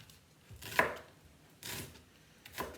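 Knife dicing an onion on a cutting board, three distinct chopping strokes spaced about a second apart, close and fairly quiet with no talk.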